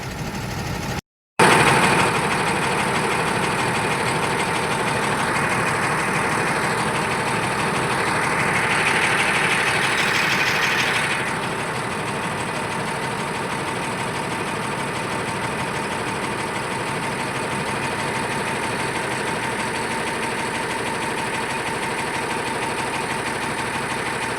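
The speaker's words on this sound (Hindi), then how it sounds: "ये रीजनरेशन शुरू हो गया है और अब हमारा आरपीएम बढ़ने लगा है।" A Tata BS6 diesel engine idles with a steady low drone, its revs climbing briefly as DPF regeneration begins, then settling back into a constant hum, with a short dropout near the start.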